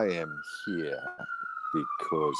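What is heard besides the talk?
emergency vehicle siren passing in background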